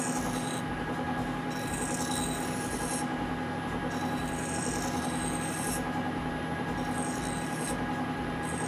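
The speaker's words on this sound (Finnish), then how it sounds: "Mä en paina tätä viilaa just ollenkaan." A hand file strokes back and forth across a small metal puck with light pressure, a continuous close rasping scrape with regular stroke rhythm over a steady machine hum.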